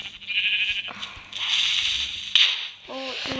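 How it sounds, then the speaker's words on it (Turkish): A sheep bleats twice near the end in Minecraft, synthetic and clear, after a stretch of steady game-style background noise with a sharp click midway. "Koyun."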